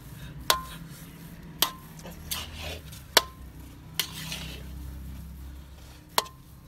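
Spoon scraping and clinking against a pot while thick samosa masala filling is stirred and mixed, sharp metallic ticks every second or so over a low background rumble, close and fairly quiet.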